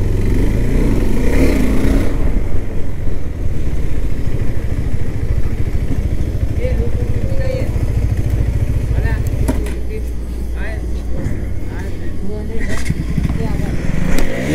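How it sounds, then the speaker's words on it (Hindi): A 2021 KTM RC 200 motorcycle runs on a race track in Ahmedabad, its engine droning loudly and steadily with a low throbbing hum, while a rider talks over it almost throughout. "सेकंड गियर में तो और भी ज्यादा भाग रही है बाइक।"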